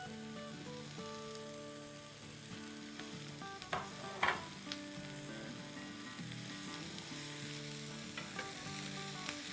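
Green bell pepper and vegetables sautéing in a pan for a veg casserole, giving a steady, close sizzle throughout with a few brief louder crackles or stirring clinks in the middle; no talking.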